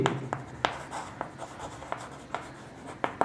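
Someone writes on a board while working a class 6 maths problem on LCM and HCF: quiet, irregular scratchy strokes and taps come close together in short bursts, with no talking.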